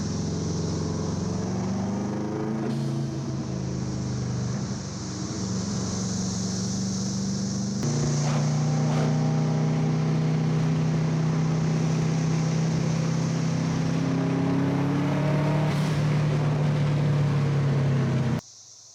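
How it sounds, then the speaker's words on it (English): A repaired, previously wrecked Subaru WRX on a test drive: a continuous engine drone rises in pitch as it accelerates, drops at a gear shift, then climbs again under steady road and cabin noise before cutting off. "took the car for test drive, drove around, got up to speed"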